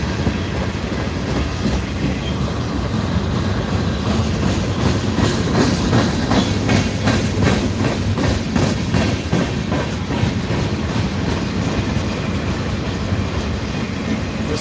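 Loud, steady rumble of freight cars, including Southern Railway hoppers, rolling past at night at Ooltewah, with rhythmic clickety-clack of wheels over rail joints throughout.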